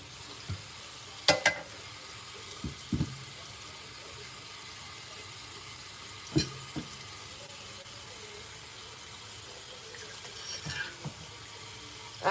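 Hot water runs steadily from a tap into a kitchen sink to soak dirty dishes, a constant hiss broken by a few faint clinks and knocks of dishware.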